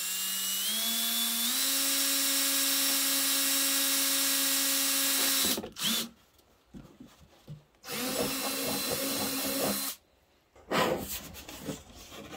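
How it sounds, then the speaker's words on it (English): A power drill whines steadily for several seconds while drilling a hole on a Caterpillar D2 5J tractor, its pitch rising slightly, then stops; two shorter bursts of drilling follow after brief pauses. "So I guess it wants me to drill my own hole."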